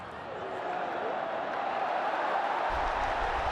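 A large cricket stadium crowd at an India vs Pakistan T20 World Cup match makes a steady roar of many distant voices. The noise rises slowly and holds throughout.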